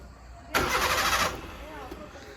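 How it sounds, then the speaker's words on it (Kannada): An old car's engine cranks and catches on a cold morning, a loud burst of starter and engine noise for under a second that settles into a quieter idle. "ಚಳಿ ಅಲ್ವಾ, ಇಂಜಿನ್ ಎಲ್ಲ ಕೂಲ್ ಆಗಿರುತ್ತೆ, ಅದು ಅಷ್ಟು ಬೇಗ ಸ್ಟಾರ್ಟ್ ಆಗುತ್ತೆ."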